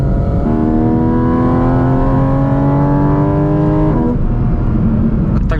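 A loud Porsche GT4 RS engine drones steadily at high revs, its pitch holding then shifting as the gear changes, heard from inside the car.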